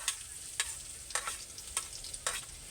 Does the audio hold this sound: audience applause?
no